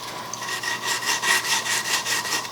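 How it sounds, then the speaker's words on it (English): Hand sanding of a wooden mid-century modern piece with 120-grit sandpaper, a steady rhythmic rasping of back-and-forth strokes, close and even, about two strokes per second with nothing else heard. "And now with some 120, very gently starting to sand and shape the last little bits of this"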